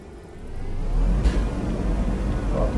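A car driving in the video game The Cycle gives a steady engine hum and whir that swells as it picks up speed, loud and close throughout, with a short swoosh partway.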